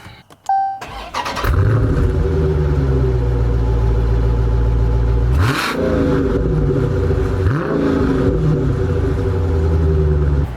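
A 2019 Dodge Challenger Scat Pack Shaker with a 392 V8 starts after a brief chime and cranking, then settles into a loud, deep idle and is blipped twice with rising revs that fall back. No one speaks.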